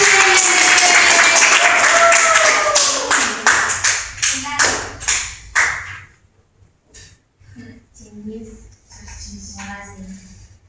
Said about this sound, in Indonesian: beri aplaus ya untuk kelompok yang maju hari ini